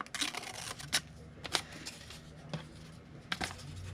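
Scissors cut paper petals for a book rose in a few short, crisp snips spaced irregularly, close and fairly quiet, with faint rustling of paper between the cuts.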